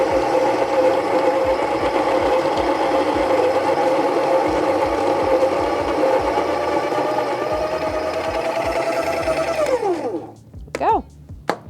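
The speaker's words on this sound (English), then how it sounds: "So I'll place that on there and start grinding." An espresso coffee grinder grinds beans in a steady, close whirring whine for about ten seconds, then spins down and stops, leaving a few short clicks and light handling noises.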